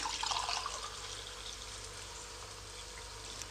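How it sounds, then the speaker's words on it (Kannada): Water being poured into a pot of rice for vegetable pulao, a continuous close splashing rush that is strongest at first and then settles into a steady liquid flow, with no talking. "ಈಗ ನಾವು ಅದಕ್ಕೆ ನೀರು ಹಾಕ್ತೀನಿ"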